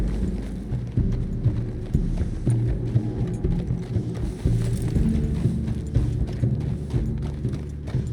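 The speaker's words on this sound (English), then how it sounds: "Get a hold of that horse, Mr. Morgan." Rhythmic clip-clop of horse hooves plodding steadily along in the video game Red Dead Redemption 2, mixed with low thuds and a background hum, continuing for several seconds without speech.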